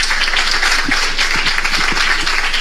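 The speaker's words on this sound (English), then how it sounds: "Can we make that round of applause more?" A Harvard audience gives sustained applause after a talk by Apostle Joshua Selman, a loud, continuous wash of many hands clapping that holds steady throughout.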